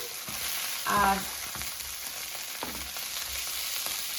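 Bratwurst sizzles and crackles in a hot frying pan, a steady frying hiss with a brief louder burst of spatter near the start.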